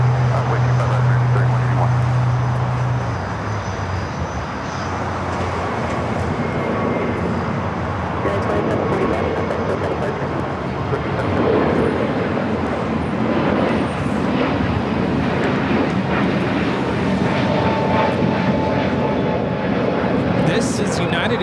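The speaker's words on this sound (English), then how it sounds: "This is United Airlines 2745 taking off to Denver, Colorado on the A321neo." United Airlines Airbus A321neo taking off from Los Angeles for Denver, a broad jet roar that builds and holds at a steady level over the clip, with a brief low hum at the start and voices chatting throughout.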